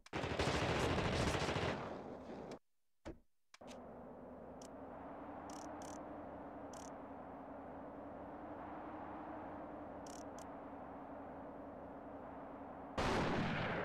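Dense gunfire from The Thing video game opens loud and noisy, drops away into a brief silence, then gives way to a steady low hum with a few faint clicks before another loud burst at the end.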